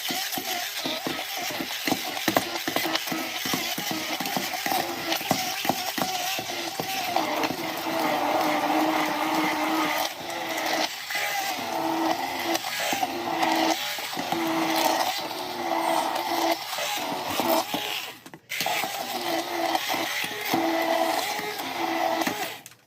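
Cooked pinto beans are mashed in an Instant Pot pot for Tex-Mex refried beans, giving a long run of close, repeated soft thuds and wet squelching scrapes in an uneven rhythm, with no talking.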